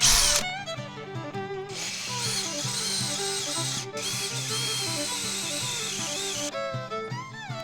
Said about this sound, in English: What are you doing, step drill?